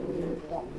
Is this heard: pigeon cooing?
yes